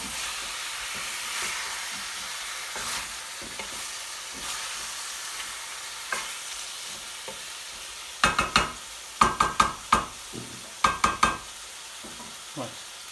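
Beef curry base with tomato stirred in a pan for home-style naga curry, a steady frying hiss under scattered spoon scrapes, then a cluster of sharp, close clinks and knocks against the pan near the end.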